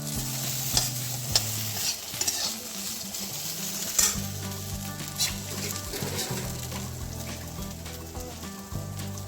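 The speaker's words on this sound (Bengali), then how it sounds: "আর এখানে হচ্ছে ঢেঁড়স ভাজা, অলরেডি ডান হয়ে গেছে" Sliced okra fries in a pan in a home kitchen, a continuous close sizzle with scraping and clinking as it is stirred, under a low background hum and with occasional sharper utensil knocks.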